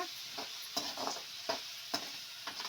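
Vangibath masala with garam masala fries in a pan, a soft steady sizzle broken by several scraping stirs of a spoon at irregular intervals.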